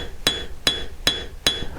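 Four evenly spaced, ringing hammer blows strike sterling silver during planishing, each a bright metallic clink close up, with no talk.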